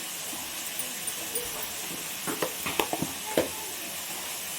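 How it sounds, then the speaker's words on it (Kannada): Carrots and other vegetables fry in a pan for restaurant-style noodles, giving a steady soft sizzling hiss with a few light clinks and knocks near the end. "ಹಾಕಿ ಒಂದು 2 ನಿಮಿಷ ಫ್ರೈ ಮಾಡೋಣ."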